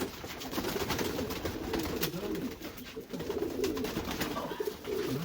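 Semey pigeons, including white-headed, rock-dove and striped birds, cooing in soft repeated rolling calls close by, several birds overlapping in a continuous low burble with no talking.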